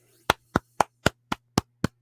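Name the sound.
applause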